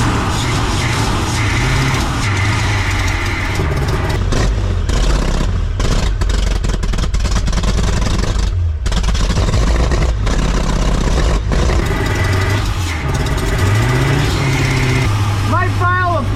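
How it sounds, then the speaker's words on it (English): A 1978 Ford F-350 engine with a carburetor and choke, running loud and close, idling roughly and revving up repeatedly with clattering mechanical noise throughout. "we're gonna rev her up"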